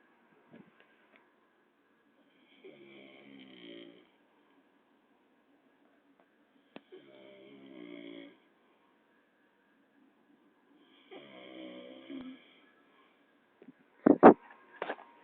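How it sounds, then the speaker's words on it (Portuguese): A man snoring in the early morning hours gives three slow, faint, rattling snores at regular intervals in an otherwise quiet room, followed by a few sharp close clicks at the end. "Vamos filmar ele roncando"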